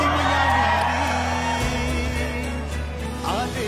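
A large crowd at an Eknath Shinde government outreach rally in Kolhapur district cheers and whoops, a loud, dense wash of voices with a few shouts rising above it.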